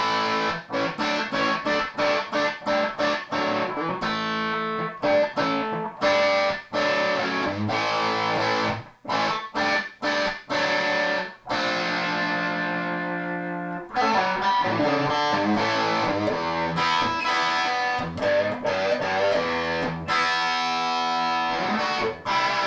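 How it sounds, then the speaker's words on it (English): A hollow-body electric guitar plays with a crunchy, distorted tone, strummed chords and quick riffs running continuously with brief breaks. "Very cool guitar. Hollow body."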